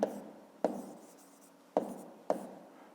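Pen or pencil strokes on paper as an answer is written down for a fifth-grade maths exercise, four short scratchy bursts, close and quiet, with no talking.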